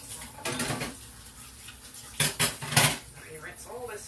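Dishes, pans and utensils clatter while being rinsed in a kitchen sink after baking a raisin spice cake, with running water and scattered clinks, partly under speech.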